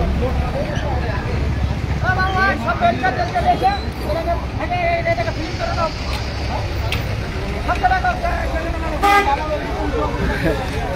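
Busy town road traffic in Jaipur during road-widening work, with repeated car horn toots, motorbikes passing and a hum of vehicles and crowd babble, fairly loud and continuous; people talk in the background.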